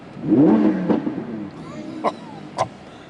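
A 2016 Audi R8 V10 Plus engine roars up in a brief rev near the start, then drops to a low rumble, with a couple of sharp clicks and knocks afterward.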